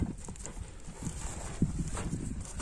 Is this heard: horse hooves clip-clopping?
yes